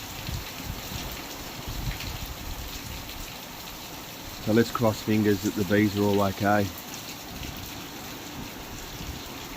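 Steady rain and gusting wind sweep over an apiary during a sudden storm, a constant noisy wash with someone speaking briefly in the middle.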